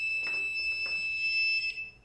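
A carp fishing bite alarm gives a steady electronic tone that holds without a break for about two seconds, loud and close, with nobody speaking.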